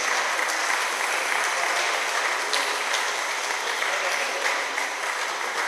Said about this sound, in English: Keep clapping until they take their seats.